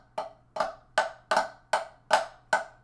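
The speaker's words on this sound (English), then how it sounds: "we can put flams on the front of each double" Flam doubles on a drum: seven sharp, evenly spaced strikes, each with a small grace-note embellishment before a double stroke, close up and decaying quickly between hits, with no talking.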